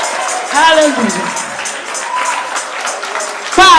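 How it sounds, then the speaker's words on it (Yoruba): A church congregation claps for Jesus, the applause rising and falling in waves under a strong voice speaking over it, loud and close throughout. "Pa àtẹ́wọ́ yẹn dáadáa fún Jésù olónìí"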